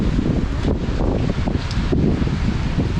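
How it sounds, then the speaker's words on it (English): Gusty hurricane wind from Hurricane Ian buffets the microphone at a Disney World resort, a loud, continuous roar with rushing surges and rustling palm fronds. "probably hear on the mic, that the wind is picking up"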